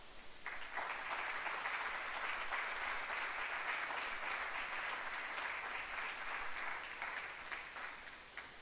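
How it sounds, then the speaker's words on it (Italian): Sustained audience applause fills a hall at the A.I.FI. 2021 physiotherapy scientific congress, a dense, steady wash of many hands clapping at even loudness for the whole stretch with no voices. "Quindi a tutte queste persone facciamo un grandissimo applauso."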